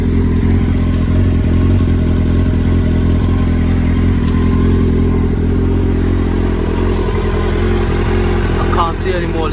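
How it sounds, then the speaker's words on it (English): A Kawasaki Ninja ZX-9R motorcycle engine idles steadily and loudly up close, a continuous low rumble with faint clattering ticks, holding an even rhythm throughout. "the bike is running, idling perfect"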